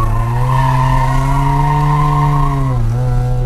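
A Mazda RX7 drifting on a street, tires skidding in a loud, sustained squeal over the steady roar of the engine, with a brief dip in pitch near the end.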